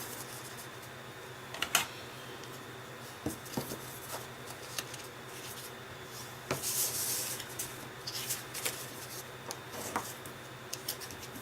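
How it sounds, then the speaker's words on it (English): A tool is drawn along cardstock to burnish score marks for a festive hot chocolate package, giving soft close-up rubbing strokes with occasional light taps and paper handling, quiet and with no talk. "I'm actually going to score these, or I should say burnish these"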